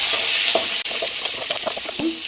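Onions, green chillies, dried red chillies and curry leaves sauté in a pan for sambar, giving a soft, continuous sizzle with faint stirring taps.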